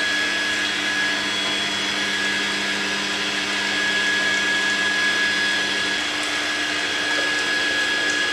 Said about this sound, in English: water from the sump tank is coming to the acrylic cylinder with the help of these 4 openings, and the centrifugal pump is used for that purpose